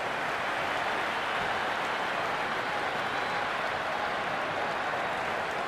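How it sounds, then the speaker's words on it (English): A packed cricket crowd roars steadily from the stands during an England versus New Zealand match in the Cricket 26 video game, a dense, continuous wash of cheering with no break throughout. "There's a buzz, a real buzz coming from the stands."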